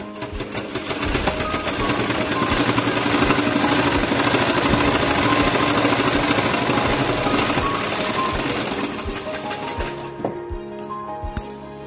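A sewing machine stitches a cloth 3D face mask, running steadily and loudly for about nine seconds with a dense, continuous mechanical whir before slowing and stopping, then a few faint clinks.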